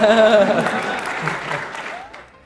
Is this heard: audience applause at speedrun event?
yes